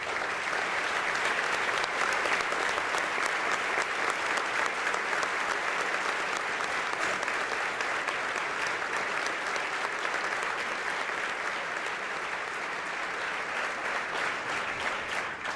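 An audience at a silver jubilee celebration applauds standing alumni graduates, a sustained, even round of many hands clapping, loud and continuous throughout with no talk over it.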